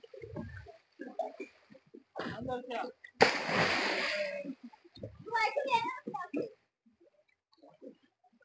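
Children splash and swim in water. The splashes come in short, close bursts, with one louder surge in the middle, and children's voices chatter between them.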